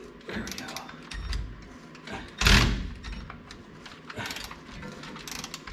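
A ratcheting hand tool turns bolts on a 1970 Ford F250 dually, giving repeated short clicking bursts with a sharper clank near the middle, fairly close and moderately quiet, no talk.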